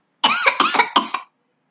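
Woman's coughing fit after apple juice went down the wrong way, five or six rapid harsh coughs in a close burst that stop abruptly into silence.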